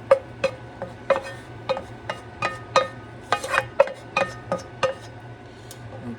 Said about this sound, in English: I'm just gonna put it in the same bowl with the tomatoes and the onion.